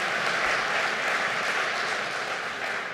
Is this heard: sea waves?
no